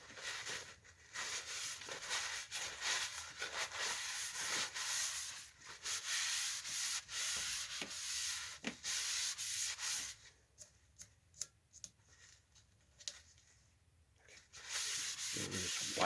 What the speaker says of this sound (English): I'm just going to wipe it down.